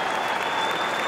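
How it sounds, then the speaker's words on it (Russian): Audience applauding the winner after a Maxim Konovalov vs Saforbek Sangov fight, a dense, steady wash of clapping filling the whole moment with no voices on top. "аплодисменты победителю"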